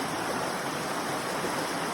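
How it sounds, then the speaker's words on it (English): Stream water flows in a steady, dense rushing hiss, fairly close and unbroken, with no voices or other distinct sounds. "The sound of this water can be roaring and too loud at times."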